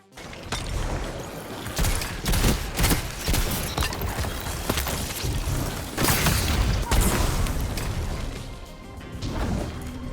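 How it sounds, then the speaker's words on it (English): In the video game Destiny 2, a teammate's gunfire comes as a dense run of loud overlapping shots and impacts amid busy game noise. "These shots from my teammate let me know that there's probably an enemy up there."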